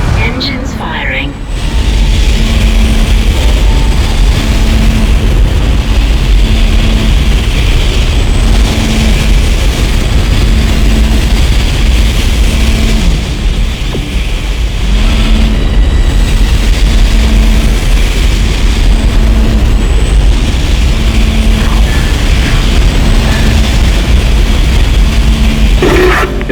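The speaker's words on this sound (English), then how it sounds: "Engines firing." Spaceship engines fire up in the game Dead Space, a loud, continuous low rumbling roar with a steady hum that holds for the whole stretch, with game dialogue over it.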